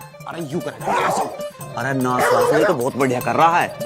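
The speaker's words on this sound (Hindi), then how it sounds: "कुत्ता भौंक रहा" A dog barks and yips in short bursts close by, mixed in with people talking over it throughout.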